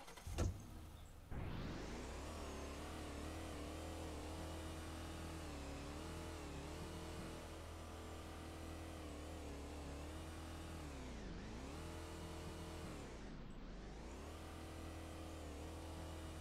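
A car's engine in the Roblox Arcade Tycoon game drives and revs steadily, a loud continuous mid-pitched drone with a sharp start and two brief dips where the revs drop and climb again, with no talk over it.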